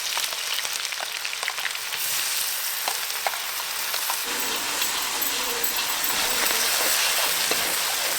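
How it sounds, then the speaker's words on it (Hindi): Paste hits hot cumin seeds in a frying pan, and a loud bright sizzle flares up and keeps hissing steadily, with light clinks of stirring and no talk. "जीरा थोड़ा सा लाल हो गया, अब डाल देते हैं इसमें ये वाला पेस्ट।"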